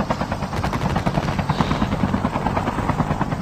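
Helicopter in a multiplayer shooter game, a loud steady rotor thump with whine, continuous and close throughout, no talk over it.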